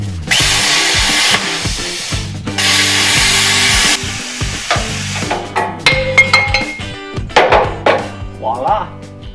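A power tool is cutting apart a vehicle frame near a fuel tank. Two long, loud, steady whining bursts are followed by a scatter of metallic clanks, knocks and short tool blips.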